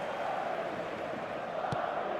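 A stadium crowd in the eFootball 2026 video game, a steady, distant roar of many voices held at even loudness throughout, with no single voice standing out.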